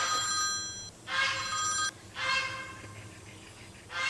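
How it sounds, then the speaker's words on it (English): A telephone bell rings loudly in repeated bursts, about one second each with short gaps between, and no other sounds alongside. "I'm getting a phone call."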